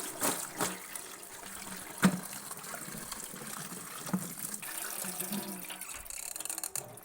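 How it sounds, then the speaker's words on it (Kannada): Potatoes being washed in water to rinse off the starch in a home kitchen: running water and sloshing splashes with a few sharper knocks as the pieces are swirled, close by and with no talking. "ಈ ಥರ ಚಂದ ತೊಳ್ಕೊಬೇಕು. ಪೊಟ್ಯಾಟೊದು ಸ್ಟಾರ್ಚ್ ಎಲ್ಲ ಹೋಗಬೇಕು."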